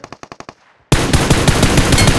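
Rapid bursts of M4A rifle fire in a mobile battle royale shooter: about six sharp, evenly spaced shots, a short gap, then dense, loud continuous automatic gunfire.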